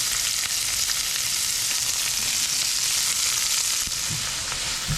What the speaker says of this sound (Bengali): পেঁয়াজটাকে আমি একটু ভাজা ভাজা করে নেব